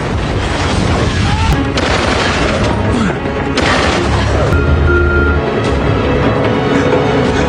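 A continuous, loud roar of a helicopter exploding after being shot, with heavy blasts, booming impacts and crashing debris layered densely throughout.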